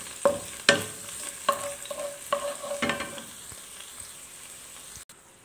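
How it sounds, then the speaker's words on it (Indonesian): Garlic sautéing in a pan for Hokben-style beef teriyaki, with a steady close sizzle broken by several sharp scrapes and knocks of stirring, then an abrupt near-silence at the end. "kita masukkan bawang putih, setelah itu kita tumis."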